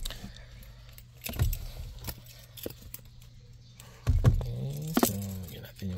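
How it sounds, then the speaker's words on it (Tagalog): Car keys for a manual Ford Ranger XL 4x4 pickup jangle close by in a few short metallic bursts, with a louder rattle near the end as they are readied for the ignition. "So, lagyan natin yung susi."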